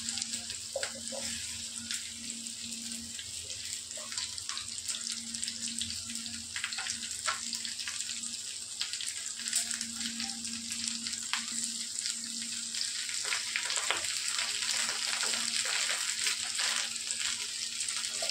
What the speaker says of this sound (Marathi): यात आपण भेंडी आधी फ्राय करून घेणार आहोत